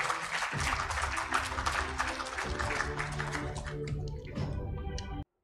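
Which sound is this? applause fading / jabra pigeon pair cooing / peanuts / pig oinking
applause fading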